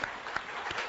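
Audience applause at a lecture, a brief faint patter of clapping hands.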